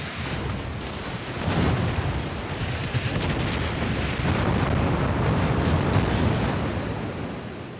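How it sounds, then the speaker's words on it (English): A warship firing armor-piercing shells at a destroyer in the naval battle game Ultimate Admiral: Dreadnoughts, heard as a dense, continuous roar of distant gunfire booms and rumbling blasts over churning sea noise. "Don't tell me you're firing fucking AP at a fucking destroyer."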